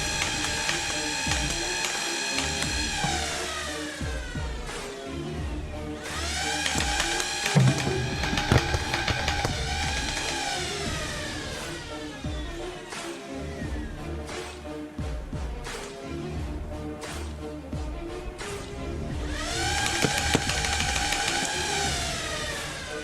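A modified Nerf blaster fires AF Pro foam darts, with mechanical whirring and ratcheting in repeated bursts rising and falling over about twenty seconds, close and fairly loud, with no talking.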